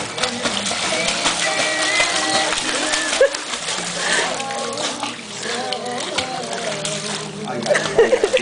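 Water splashes and sloshes in a pool as a baby is taught to swim, with irregular nearby splatters throughout. People talk over it.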